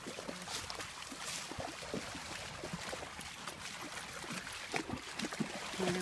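Several puppies splash and paddle in shallow creek water outdoors, giving a continuous faint rush of splashes and trickling with scattered louder slaps.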